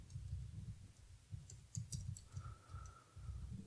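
Quiet clicking of keys on a computer keyboard while someone types code, irregular bursts of keystrokes close to the microphone with a faint tone in the background.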